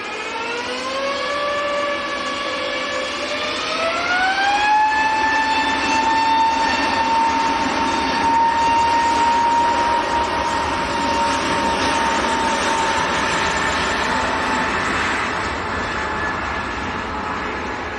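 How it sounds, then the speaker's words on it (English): A Boeing 787 Dreamliner landing on a wet runway at Manchester Airport, a loud continuous engine roar with a rising whine that settles into a steady tone, layered over broadband spray and rumble that slowly fades. "to a Dreamliner just touching down"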